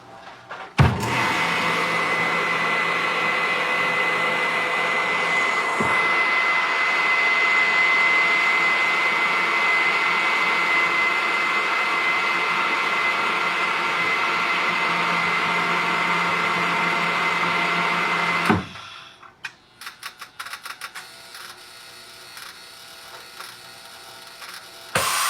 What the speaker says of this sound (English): Lay them in the cavity of our sous vide machine.